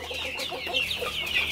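KUB chickens on a modern poultry farm cluck continuously at close range, several birds overlapping in a busy, steady chatter with no talk.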